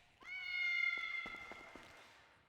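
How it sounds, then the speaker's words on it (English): Single drawn-out cat meow in a GTA V roleplay game, a clear tonal cry lasting about two seconds with a few soft footstep-like taps beneath it. "I hope they heard that meow."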